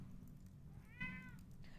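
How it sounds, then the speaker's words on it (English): A cat lets out one short, quiet meow indoors against a low background hum. "He meows every time I say that."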